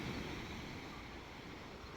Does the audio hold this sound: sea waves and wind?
yes